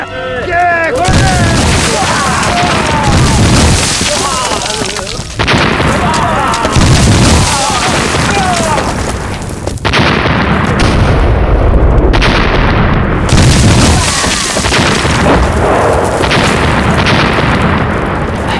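Heavy landmine explosions in a war film boom one after another, loud and close, with debris bursts, scattered gunfire and shouting voices in between.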